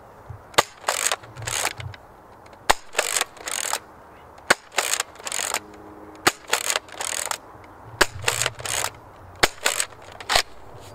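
A Nerf Sling Fire dart blaster is cocked and fired repeatedly nearby, each sharp snap of a shot followed by a short ratcheting rattle of the lever action, in a steady series of about ten cycles.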